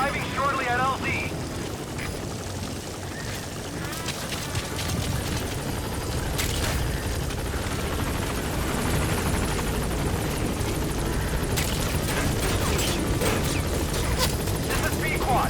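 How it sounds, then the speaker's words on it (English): A support helicopter arrives in Metal Gear Solid V: The Phantom Pain, a loud steady rotor roar with thumping blades filling the scene, while radio voices talk over it. "Support helicopter has arrived."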